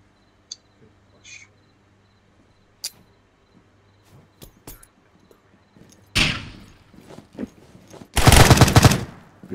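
Gunfire from a weapon in the tactical shooter Zero Dark, fired at a wall: scattered faint clicks and single shots, then two loud bursts of rapid automatic fire near the end.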